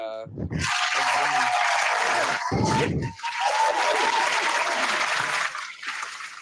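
A podcast crowd-applause sound effect bursts in after brief talk, a dense clapping roar that swells, holds for several seconds and fades out.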